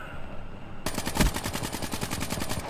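Automatic gunfire in the video game Black Ops 3 erupts after a brief quiet moment, a rapid, loud, rhythmic stream of shots that continues to the end.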